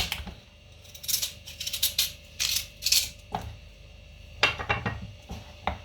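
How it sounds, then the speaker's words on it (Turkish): A knife slices a potato on a cutting board while making a pea stew, giving a series of crisp, irregular taps and scrapes in small bursts, close and clear with no talking. "Şimdi patatesi de hemen bir tane şöyle bir dilim doğrayalım."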